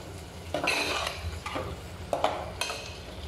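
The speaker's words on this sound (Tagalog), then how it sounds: "bali ginisa lang muna natin siya" Beef curry sautéing in a hot pan sizzles steadily while a spoon scrapes and stirs in several sharp, close strokes.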